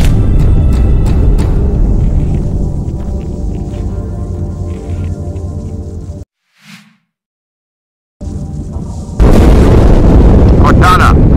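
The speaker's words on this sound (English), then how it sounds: "That explosion was inside the Athens, same as the Malta." A huge explosion aboard a ship in the video game Halo 2 erupts as a loud, sustained rumbling roar, drops into near silence with one faint thump, then bursts back in with a loud crashing blast.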